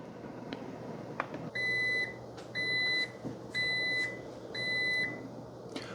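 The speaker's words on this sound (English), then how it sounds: "the coffee maker beeps at you when it's done" A Cuisinart SS-GB1 coffee maker gives four steady electronic beeps when brewing finishes, each about half a second long and evenly spaced, over a low background hum.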